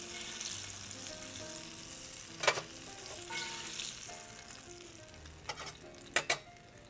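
Thin cornmeal-coated catfish pieces with a touch of mustard frying in hot oil, a steady soft sizzle with a few sharp crackles and spatters rising above it, close up and without talk.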